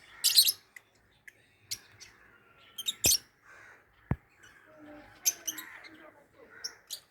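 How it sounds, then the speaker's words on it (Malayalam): A familiar parrot calls in a yard in the morning: scattered sharp squawks and short chirps, mid-distance, with quieter bird sounds between them. "അത് നല്ലൊരു പരിചയമുള്ളൊരു തത്തയാട്ടോ ഇത്"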